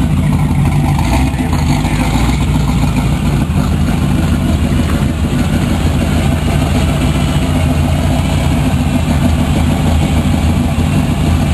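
A Rally Sport Camaro engine runs steadily at a car show, a continuous loud rumble that stays even throughout with no clear rev spikes.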